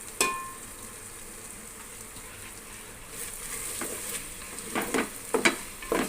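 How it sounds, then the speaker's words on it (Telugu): Ginger garlic paste frying in a pan with mint and coriander for bagara rice, a soft steady sizzle with a few louder scraping stirs toward the end, no voices. "అల్లం వెల్లుల్లి పేస్ట్ పచ్చి వాసన పోయేంత వరకు వేయించుకోవాలి."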